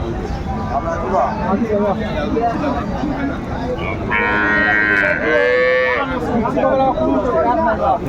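A cow moos loudly at a busy village cattle market in Bangladesh, one long drawn-out call rising over the steady chatter and murmur of a crowd.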